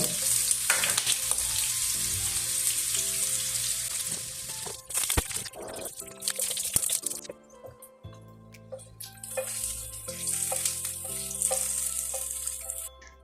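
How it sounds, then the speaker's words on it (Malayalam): Coconut pieces fry in hot oil until golden brown, giving a continuous crackling sizzle broken by stirring clinks and scrapes. Brief pauses and shifts in intensity suggest the pan is being handled. "ഓയിൽ ചൂടായതിനു ശേഷം നമ്മൾ തേങ്ങാക്കൊത്തൊക്കെ ഇട്ട് നല്ലപോലെ ഒരു ഗോൾഡൻ ബ്രൗൺ ഒക്കെ ആക്കിയെടുക്കുന്നുണ്ട്"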